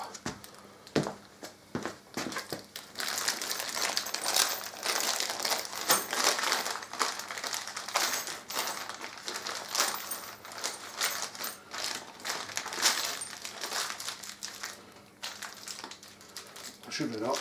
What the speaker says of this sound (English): So I'll just grab the nuts and bolts.